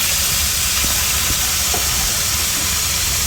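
Vegetables dropped into a hot pan for an Indian-style steamed fish dish give off a loud, steady, broadband hiss and sizzle that fills the whole moment without a break.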